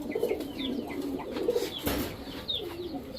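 Giribaj high-flyer pigeons cooing in a loft, soft repeated low coos overlapping with faint chirps and light rustling, fairly quiet and close.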